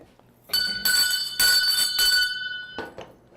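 A bell rung in a talk-show studio, struck about four times in quick succession with bright ringing tones that sustain between strikes, then a final fainter ring.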